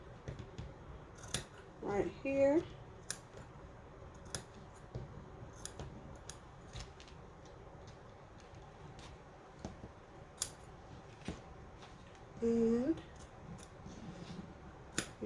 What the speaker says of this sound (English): use my scissors right there for the pieces that didn't cut all the way through